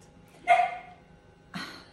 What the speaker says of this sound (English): there she is, barking to I don't know what